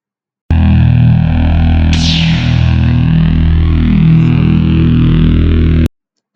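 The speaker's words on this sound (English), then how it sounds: "for sounds we have taken the two files as lightsaber ignition 6816 and humming sound that we have here right here" Lightsaber sound effect: a sharp ignition burst followed by a loud, sustained electric hum with slight wavering and a sweeping swell midway, ending in a sudden cutoff, with no voices.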